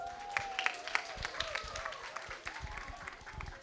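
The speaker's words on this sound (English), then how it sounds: "Give her a round of applause." Applause from a kindergarten stepping-up ceremony audience at Merrick Academy: scattered hand claps patter steadily throughout, fairly soft, with a few voices calling out over them.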